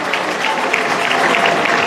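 A crowd at a university gathering in Cape Coast bursts into applause, a brief burst of thick, even clapping throughout with no pauses or speech.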